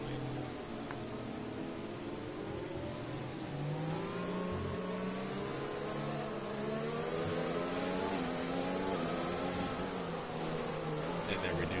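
Cars in an F1 video game race run laps behind a safety car, with steady engine whine and shifting revs droning continuously at a moderate level, some gear changes audible.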